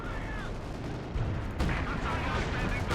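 Artillery fire in the real-time strategy game Company of Heroes 2 during a 4v4 match on Essen Steelworks: heavy, rumbling blasts and shell impacts roll on continuously at moderate volume, growing denser partway through.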